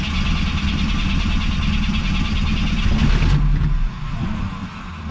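Engine of a super clean classic car pulled from a barn, running loud and close with a steady rumble, then the note drops slightly near the end.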